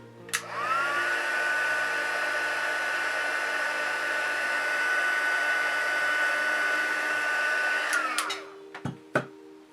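A heat tool blows a steady, loud, whining stream of air for about eight seconds while heat-setting a crease, winding down at the end before a few sharp handling knocks.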